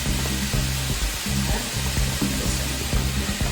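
Garlic dropped into a hot skillet already holding turkey and broccoli, giving a steady loud sizzle and frying hiss with soft rhythmic stirring taps underneath.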